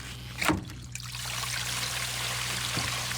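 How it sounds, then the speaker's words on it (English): Gray water from an RV gray tank drains in a steady, continuous trickling stream after a brief clunk near the start, close and moderately loud over a low hum. "First you want to pull this tab here so the water actually flows out"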